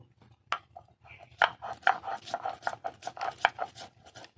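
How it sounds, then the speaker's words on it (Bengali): Soaked black mustard seeds are ground into paste for bhetki fish paturi, a rhythmic series of scraping, grinding strokes close by, quickening and growing louder as it goes. "পাতুরি বানানোর জন্য সর্ষেটা বেটে নেব"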